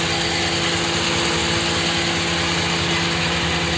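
A 2014 Ram 1500 Sport pickup truck engine idles nearby with a constant low hum and a buzzing, even drone, with no exhaust leaks audible. No one speaks and nothing else rises above it.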